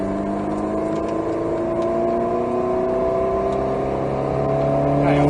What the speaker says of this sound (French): Et on accélère. Allez, gaz.